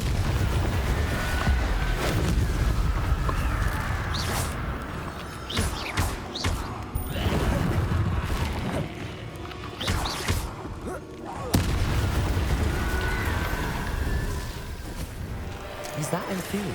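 Confringo blasting-curse explosions in Hogwarts Legacy go off as several sharp booms and thuds scattered through the clip, set against dense game sound and a voice speaking over the action.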